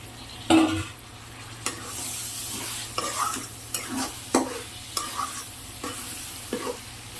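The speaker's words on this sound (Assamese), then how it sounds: "মছলাখিনি এনেকৈ ফ্ৰাই কৰাৰ মানে বেছি ফ্ৰাই নকৰোঁ" Spices sizzle and fry in a pan for a pigeon meat curry while a spoon stirs them, giving a soft steady crackle broken by repeated scraping strokes and clinks. The sound is close and moderately loud.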